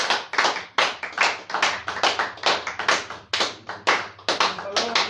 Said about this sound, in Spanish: ¿Cuánto le damos un aplauso al Rey?